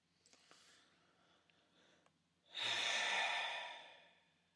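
A single heavy, drawn-out breath: a loud, close exhale that swells suddenly and fades over about two seconds, after a stretch of faint rustling.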